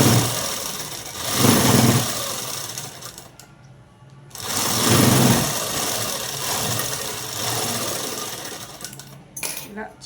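A sewing machine stitches the seams of a long frock, with its motor whirring in long steady runs that pause and restart, loud and close, while a voice talks in places.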